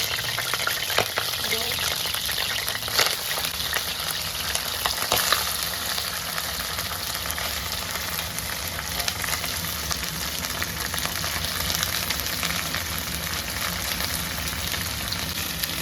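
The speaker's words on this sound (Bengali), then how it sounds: "আমাদের তেলটা গরম হয়ে গেল এবার আমরা এই ঢেঁড়সগুলোকে দিয়ে দেবো" Okra frying in hot oil for an egg and okra bhujia, a steady dense sizzle and crackle running throughout without letup, with a few brief stir clatters near the start, no talk.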